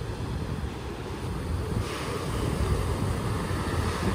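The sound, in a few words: ocean waves breaking at surf beach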